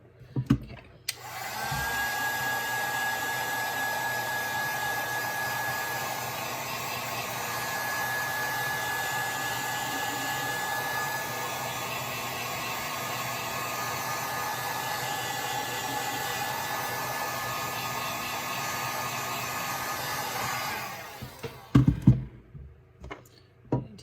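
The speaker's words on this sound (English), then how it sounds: "So I'm going to take my heat gun" Heat gun blowing hot air over epoxy on a tumbler, a steady loud whooshing whine held for about twenty seconds, then cut off, followed by a few close knocks and taps.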